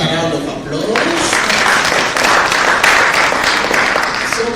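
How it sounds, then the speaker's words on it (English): Sustained applause from a conference audience, a dense wash of clapping at steady loudness with a voice audible over it. "Let's give her another round of applause."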